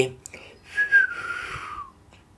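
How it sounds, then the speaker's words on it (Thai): A short, cheerful whistled phrase, a rising then falling tune over faint background noise. "เดินเข้าไปพร้อมกับผิวปากอารมณ์ดี"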